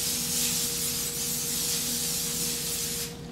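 Cooking spray hisses from an aerosol can onto a sheet of parchment paper in a kitchen, one continuous close spray lasting about three seconds before cutting off.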